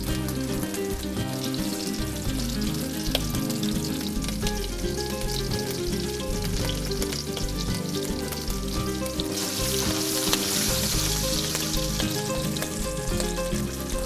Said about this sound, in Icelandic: Nú erum við búin að steikja þær vel á nokkurn veginn á öllum hliðum